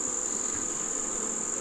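Honey bees on a hive frame give a steady, dense buzzing drone, close and continuous with no pauses, alone without voices.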